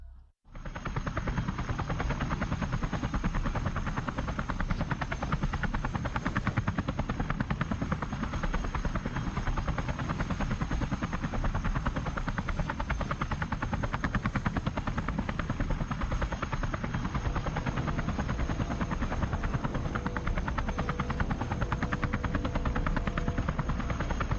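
A helicopter in flight gives a loud, continuous rotor chop with a rapid, even beating throughout, steady and close from start to finish with no voices.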